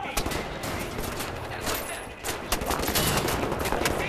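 Dense gunfire and bullet impacts crackle in Wolfenstein, with overlapping shots and bursts in a chaotic firefight. The shooting is loud and nearly constant, and voices are faintly mixed in.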